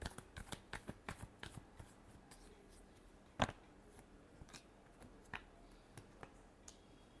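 Tarot cards being shuffled by hand close up, a quiet run of quick riffling snaps with one sharper slap partway through.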